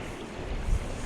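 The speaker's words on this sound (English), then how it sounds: "A little bit windy." Steady blustery wind rumbles against the microphone at a delta fishing spot at high tide, with a broad rushing noise and a low gust swelling briefly near the end.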